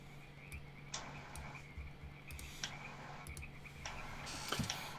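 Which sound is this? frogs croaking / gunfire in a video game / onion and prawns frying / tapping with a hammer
frogs croaking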